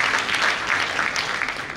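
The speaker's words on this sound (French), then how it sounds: "Ce monsieur, il faut voir l'applaudir très fort." A crowd at a festival launch event in Abidjan applauds loudly, a brief dense burst of clapping heard up close.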